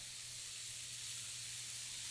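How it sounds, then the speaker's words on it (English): Burger meatballs sizzle on a hot cast iron griddle at about 400 degrees, giving a soft, steady, continuous hiss with no breaks, fairly quiet and alone. "Ooh, we love that sizzle."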